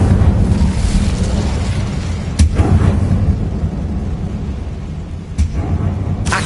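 A loud, roaring fire spell effect in Hogwarts Legacy blasts out as a sustained rumbling whoosh, with two sharp bursts cutting through the dense, boomy roar.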